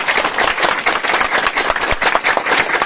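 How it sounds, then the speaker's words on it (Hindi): An audience at a political welcome event for a new member who left the BJP keeps up a continuous, busy round of applause, with many hands clapping close by. "तालियां बजते रहे इनके लिए"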